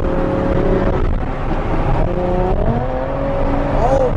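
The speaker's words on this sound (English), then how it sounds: "amazing cars flying by" Cars rush past on a road in Dubai, engines whirring and revving loudly as they go by, with a rising engine tone near the end.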